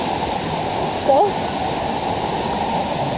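A monsoon waterfall at Varasgaon near Pune roars as a steady, loud broadband rush during heavy rain, with a brief spoken word in the middle.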